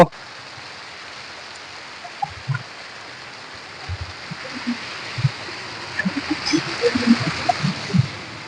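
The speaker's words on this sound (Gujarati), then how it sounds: "અહીંયા અત્યારે વરસાદ શરૂ છે" Steady hiss of heavy rain falling in the Bhavnagar area, with scattered low patters and drips growing denser toward the end, and faint voices underneath.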